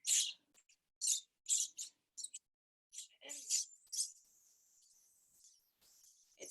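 Hungry baby birds in an open incubator at feeding time give bursts of high, thin peeping and chirping, several calls overlapping in quick clusters, then a sustained squeal trailing off, close and fairly quiet.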